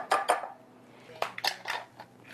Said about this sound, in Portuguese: Eu vou pegar os ovos e vou quebrar numa tigelinha aqui.